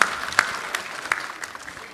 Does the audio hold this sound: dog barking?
no